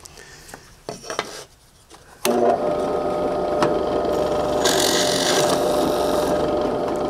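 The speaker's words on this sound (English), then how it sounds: "So we drill that side." Power drill boring a hole through wood for a quick, makeshift azimuth and semi-elevation antenna bracket; after a few light taps and handling noises the bit bites in and grinds steadily and loudly through the wood to the end.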